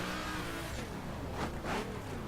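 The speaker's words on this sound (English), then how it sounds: "The rest I did with a drag car" A drag car's engine revs in the racing video game The Crew, a loud, continuous roar with rising pitch sweeps as the car accelerates, heard alone.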